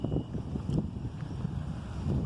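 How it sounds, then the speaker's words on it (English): Strong wind gusts outdoors on a dark, cloudy evening and buffet the microphone with a loud, low, continuous rumble. No one speaks. "nice windy day."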